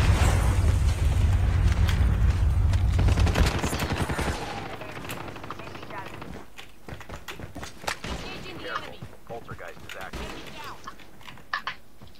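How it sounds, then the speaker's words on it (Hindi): Rapid automatic gunfire in the mobile shooter Call of Duty: Mobile, loud dense bursts for the first few seconds, then thinner scattered shots and game noise as a player talks excitedly over it. "इधर कोई फायर कर रहा है उधर तुमको फायर कर रहा"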